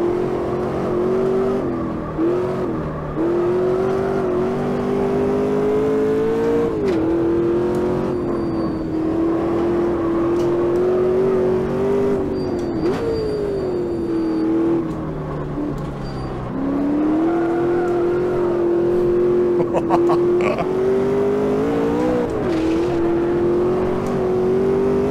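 A race car in the Automobilista 2 video game runs at full throttle with 700 Nm of torque, the engine droning loudly and steadily, rising and dipping with gear changes and throttle lifts, with no talk.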